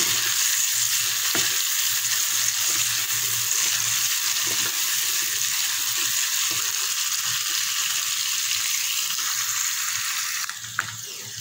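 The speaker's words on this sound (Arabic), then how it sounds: "بقرن فلفل اخضر ومعاه نص قرن شطه موحوح، وننزل بيهم ونشوحهم" Green peppers, hot chili, onion and garlic sautéing in a pan give a steady, close sizzle and fry hiss lasting throughout, with occasional stirring scrapes and no voices.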